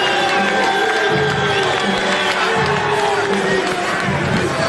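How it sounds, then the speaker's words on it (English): A boxing-match crowd cheers and shouts for a fighter being introduced, a loud, continuous roar of voices with whoops and scattered clapping throughout. "big warm round of applause for the Chief"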